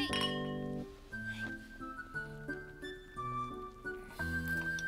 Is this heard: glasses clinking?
yes